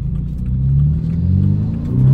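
A BMW 428i engine revs up close, a short rising growl that builds and swells toward the end with no one speaking.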